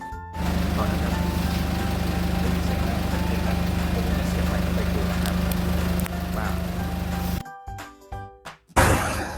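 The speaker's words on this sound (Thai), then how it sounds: "สตาร์ทเครื่องยนต์เรียบร้อย" A small engine runs with a steady, close droning idle for several seconds, then cuts out, followed by scattered handling noises.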